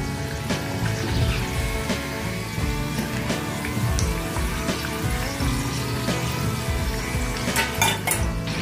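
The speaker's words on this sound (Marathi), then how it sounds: "दोन्ही बाजूने छान भाजून घेऊया आणि असं वरती थोडं थोडं तेल घालायचं, म्हणजे ती मधल्या बाजूला सुद्धा चांगली भाजली जाईल" Shegaon kachori shallow-frying in oil in a pan, a continuous crackling sizzle with scattered clinks of a utensil against the pan, close and fairly loud with no talking.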